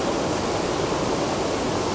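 A waterfall roars in a steady, dense wash of rushing water, loud and close, with no voices.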